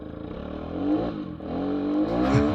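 Moped being ridden in winter, its small engine whirring and revving steadily close by, the pitch rising and falling as it accelerates, with no voices.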